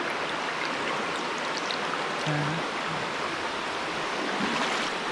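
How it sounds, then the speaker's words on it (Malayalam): Small forest waterfalls and streams in Dandeli, a steady broadband rush of flowing water filling the scene, close and continuous with no voices. "ഇതുപോലുള്ള ചെറിയ ചെറിയ ഈ വെള്ളച്ചാട്ടങ്ങളും അരുവികളും"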